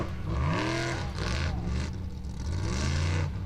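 A Formula Offroad car called the Dream, driven by Gestur Ingolfsson at a 2019 Icelandic event in Akureyri, revs its engine hard in rising and falling bursts, loud and close, with a voice talking over it.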